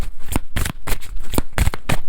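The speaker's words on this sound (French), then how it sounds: "On va prendre juste une petite carte avec ça." A deck of tarot cards is shuffled close up in quick repeated riffling bursts, about eight distinct rustling strokes with no talk.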